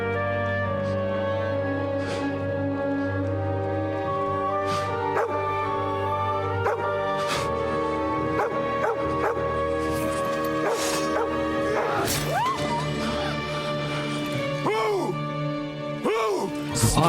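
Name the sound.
dog barking and whimpering in video game Kingdom Come: Deliverance II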